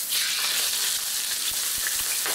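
Beef for lomo saltado sizzles hard in hot oil in a pan, a steady close broadband frying hiss with a few crackles and pops, no voices.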